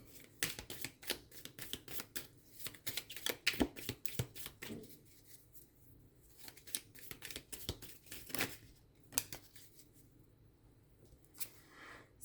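Tarot cards shuffled over and over in a close, steady run of crisp riffles and slaps, with no talk over them.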